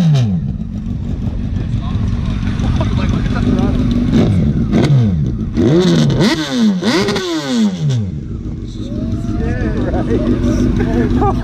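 A big-turbo BMW at a popup car meet revs hard, with a loud, close engine roar that rises and falls through sweeping pitch changes, while excited voices talk over it throughout.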